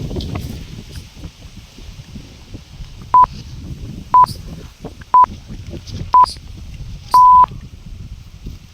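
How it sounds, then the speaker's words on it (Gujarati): Telephone keypad dialing tones: five short beeps about a second apart, the last held longer, sounding clearly over a low background rumble. "હાલો હું વિવેકભાઈને ફોન કરી."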